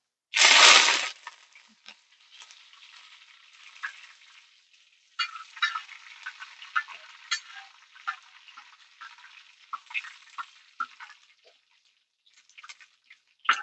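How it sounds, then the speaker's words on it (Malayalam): Curry leaves dropped into hot oil after mustard seeds have popped, a sharp loud burst of sizzle followed by quieter crackling and intermittent popping, with no talking. "നമ്മളിട്ട കടുവ് മുഴുവൻ പൊട്ടിക്കഴിഞ്ഞു ഇനി അതിനകത്തേക്ക് കറിവേപ്പില ഇടുക"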